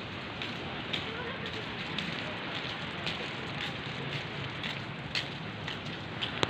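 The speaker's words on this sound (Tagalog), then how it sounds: "Pero na may ulan dito." Steady rain patters across a surface at Hac Sa Beach in Macau, a dense soft hiss with scattered louder drops, fairly quiet and continuous.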